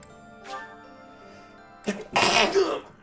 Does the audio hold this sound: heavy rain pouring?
no